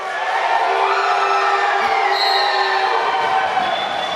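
At an LA Derby Dolls playoff bout, a roller derby crowd cheers loudly for Fight Crew, a continuous roar of whoops and shouts filling a large indoor space without letup.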